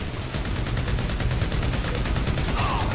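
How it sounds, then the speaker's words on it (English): Rapid gunfire in GTA V, a loud dense stream of automatic shots with no pauses, close and steady throughout. "Gonna have to shoot these guys."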